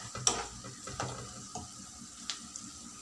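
Chopped onion frying in a pan of tempered spices for besan chutney, a low steady sizzle broken by a handful of stirring clatters and scrapes, close up and fairly quiet, with no voices.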